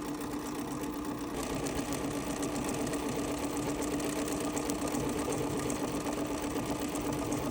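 An embroidery machine stitches out a detailed design, a steady, rapid mechanical rattle and hum running continuously and close without pause.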